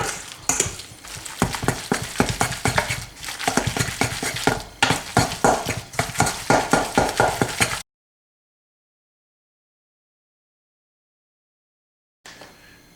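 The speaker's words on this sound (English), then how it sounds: "I'm gonna mix all this together." Ingredients are mixed in a bowl with a large spoon, producing close, rapid rhythmic scraping and clacking for about eight seconds, then silence before a brief return of sound.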